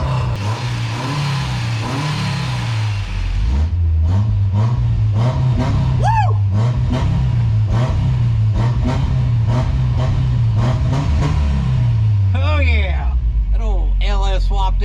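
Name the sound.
engine running and revving of 1967 Toyota pickup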